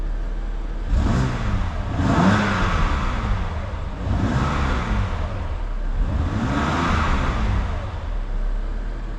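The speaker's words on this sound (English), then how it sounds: "That'll give the car a little bit more of a exhaust note. Let you guys hear what it sounds like." A BMW M2 Competition's twin-turbocharged straight-six petrol exhaust revs repeatedly, rising and falling in four or five smooth swells over a low idle rumble, loud and close.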